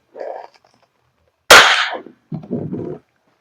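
An Umarex Glock 45 Gen 5 airsoft gas blowback pistol fires one sharp, loud, snappy crack that fades quickly, with brief quieter sounds before and after it.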